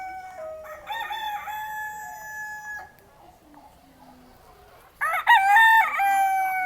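A rooster crows loudly and close by at a zoo, then after a short quiet pause another crow rings out.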